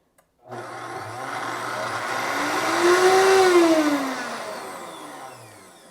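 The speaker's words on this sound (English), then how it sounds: "all I need to do is press the pulse button on the blender, which is this one here." A Vitamix blender runs a blending program in a home kitchen, its motor whirring loud and steady, the pitch rising and swelling mid-run before easing slightly, with no talk over it.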